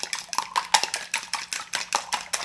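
A whisk or fork beats eggs with a pinch of salt in a bowl for thin egg strips, giving a fast, steady rhythm of clinking taps against the bowl with no talk.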